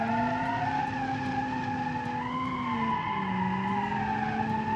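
Tires spinning and squealing on a small eco city hatchback with light 1 psi boost in a driving simulator, a continuous wavering screech over steady engine drone, loud and close throughout.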